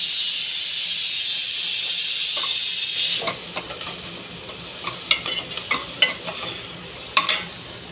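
Chopped onion sautés in a hot pan for pav bhaji, giving a steady soft sizzle, with scraping stirs and spoon clinks near the end.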